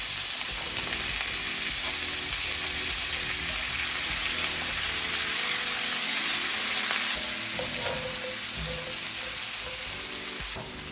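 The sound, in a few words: vegetables sizzling as they saute in butter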